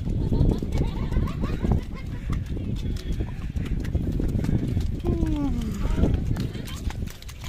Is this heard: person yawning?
no